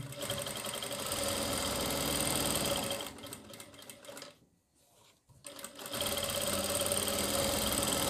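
A sewing machine stitches a churidar pajami in a steady, close whirring run, falls quiet for about a second midway, then starts again and keeps running.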